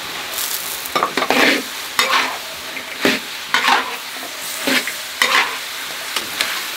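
Pork being stir-fried in a wok with spices, ginger and scallion, a hot sizzle broken by repeated scraping strokes of the spatula roughly every second, close and loud with no talk.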